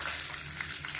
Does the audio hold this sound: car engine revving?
no